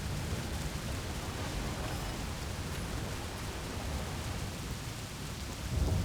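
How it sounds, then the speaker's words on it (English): A thunderstorm in the city-building game Cliff Empire: steady heavy rain hiss fills the scene with low rumbling thunder beneath, swelling slightly at the end, with no talk. "as soon as the thunderstorm is gone, those shuttles will be able to land just fine"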